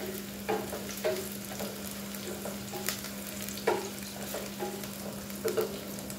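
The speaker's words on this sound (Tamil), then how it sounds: "நல்லா வதங்கி வரணும்" Egg curry ingredients, including green chillies, being sautéed and stirred in a pan, with soft sizzling beneath intermittent scraping strokes of a spoon at an irregular pace, close and fairly quiet, with no voices.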